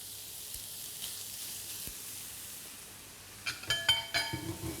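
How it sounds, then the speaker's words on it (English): Beef sizzles in a pan, quiet at first, then scraping and crackling as a wooden spoon breaks the meat apart near the end, without voices. "you can then add in the beef. And as you add it in, break up the beef with a wooden spoon"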